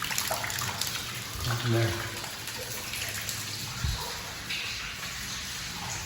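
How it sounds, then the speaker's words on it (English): Water running outdoors during a February 2021 winter storm in Houston, Texas, a steady broadband wash of flow heard at moderate distance with someone talking over it and a few brief thumps. "Some water going up right here, though."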